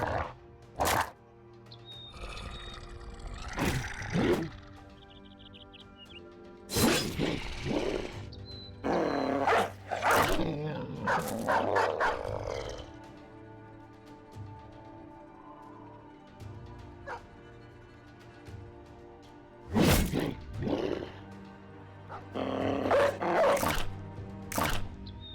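Dogs in the Battle Brothers video game bark and yelp in repeated sharp bursts over a low game soundscape, with several loud clusters spread across the clip and quieter stretches between them.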